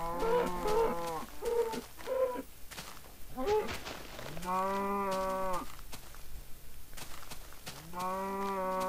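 Cows in the video game Minecraft moo several times, loud, near and tonal, with long drawn-out calls spaced apart, over a low steady background hum.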